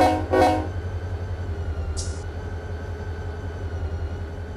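A freight train in Run 8 Train Simulator III rumbles steadily, opening with two short horn-like blasts, then a brief hiss of air midway over the continuous low rolling drone.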